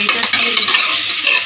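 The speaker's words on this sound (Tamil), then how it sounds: "இப்போ இது எல்லாத்தையும் நன்கு வதக்கி கொள்ளலாம்." Onions and spices with ginger-garlic paste sauté in a hot pan for goat leg soup, a close, loud, steady sizzle with scraping stir strokes throughout and no speech.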